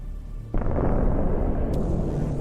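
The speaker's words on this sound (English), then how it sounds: "Look at this hit and the explosion from another drone that was adjusting the artillery fire" A drone strike on a Russian armored vehicle convoy sets off a sudden, heavy explosion that becomes a deep, sustained roar, with a sharp crack partway through.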